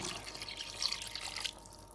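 Water streams into a soup pot being filled with plenty of water for cooking pasta. It makes a faint, steady splashing hiss that stops abruptly near the end.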